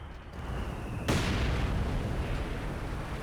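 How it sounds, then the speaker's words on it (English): An artillery shell lands in the Company of Heroes 2 strategy game: a single sharp boom about a second in, followed by a sustained rumbling roar, with no talking over it. "It manages to drop the artillery there."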